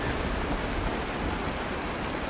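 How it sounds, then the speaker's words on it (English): Dense, even rain hiss fills a Honkai Star Rail game scene, steady and unbroken from start to finish with no voices. "It's raining!"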